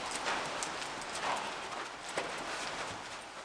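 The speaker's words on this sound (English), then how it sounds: "Holy cow, Marya, I'm not used to seeing you stand by a horse" A horse's hooves clip-clop on the floor of a naturally lit stable stall, a string of soft, irregular knocks under steady hiss, fairly close but faint.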